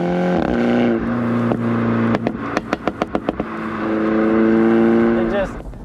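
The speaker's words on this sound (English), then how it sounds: "just hearing those pops and crackles as you're going up and down throughout the rev range" A MINI JCW fitted with a Pro exhaust revs up and down, its engine note rising and falling around a rapid burst of sharp exhaust pops and crackles on the overrun, loud and close.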